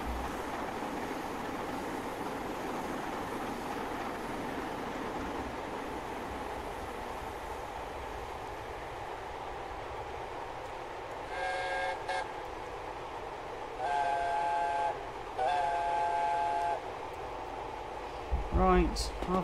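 A train in Train Simulator 2021, on a Mid-Devon morning run, rumbles along steadily, then sounds several distinct tonal whistle blasts near the end, each loud and clear above the running noise.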